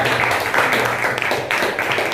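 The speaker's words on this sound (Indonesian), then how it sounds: "Tepuk tangan dulu untuk Nadia." A classroom of students claps steadily together in a continuous, moderately loud burst of applause that fills the room, with no pauses and a faint murmur of voices underneath.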